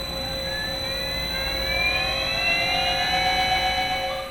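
With its blades correctly aligned, a TEE 8HP emulsifier spins up in a smooth, continuous whir whose whine rises steadily in pitch. It is heard close and alone, with no rhythmic knocking.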